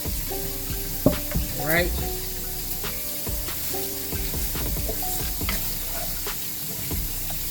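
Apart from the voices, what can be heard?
orange pepper, green pepper and onion frying in pan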